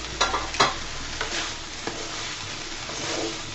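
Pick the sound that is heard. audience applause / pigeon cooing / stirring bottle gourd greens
stirring bottle gourd greens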